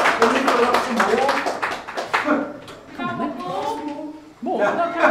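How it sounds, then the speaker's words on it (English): At a Christmas awards night, an audience gives a burst of close, dense clapping that fades as voices and excited exclamations take over, with a few stray claps. "Oh, applause."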